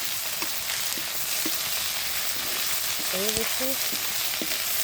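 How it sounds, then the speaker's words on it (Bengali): Steady hissing sizzle of dried fish frying with onions in a pan, with occasional stirring taps, close up, while a voice briefly speaks over it. "পেঁয়াজের সাথে হালকা ভাজা হয়ে যাবে"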